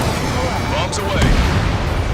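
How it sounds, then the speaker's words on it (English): Bombs dropped from a jet in Ace Combat 7 rumble and explode in a continuous loud wash of low booms under engine roar, with faint radio chatter, steady throughout. "Bombs away."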